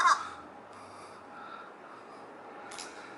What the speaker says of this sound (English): Seems like this bird is keeping the spirit alive here. He's calling out to people